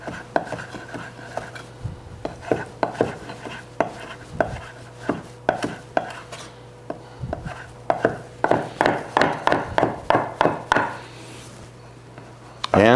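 A knife chops raw salmon for tartare on a cutting board in a kitchen. The first stretch has sparse, uneven strikes, then a faster run of close, crisp chops, with a voice speaking faintly at times.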